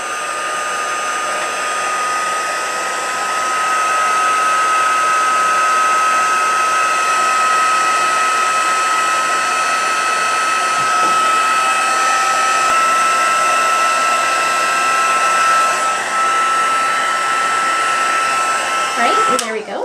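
A heat embossing tool blows hot air in a steady, loud, close whirring drone that holds evenly for about twenty seconds before cutting off at the end.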